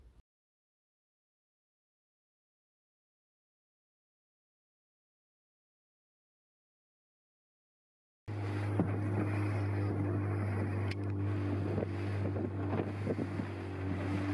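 A boat motors through tropical waters toward Brooker Island, a steady low engine drone with wind rushing across the microphone, beginning abruptly after a long silence and continuing without talk.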